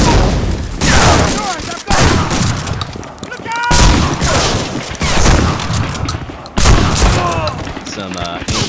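Shotgun slugs blasting in the World War II shooter Medal of Honor: Frontline, loud repeated heavy shots in bursts amid battle noise and scattered ricochet whines, with brief gaps between volleys.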